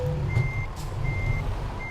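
A truck in Euro Truck Simulator 2 sounds its reversing alarm while backing in: three evenly spaced, steady electronic beeps over a low diesel engine rumble.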